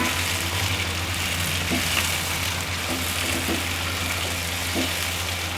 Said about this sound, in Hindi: अब चिकन फ्राई हो चुकी है, तो अब हम इसमें डालते हैं टमाटर और हरी मिर्चें